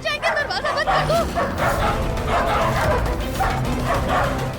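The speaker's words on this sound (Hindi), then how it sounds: "कुत्ते आ जाएंगे, दरवाजा बंद कर दो" Several dogs bark and yelp in a TV drama scene, sharp overlapping barks at the start giving way to a continuous noisy, agitated din of barking and babble.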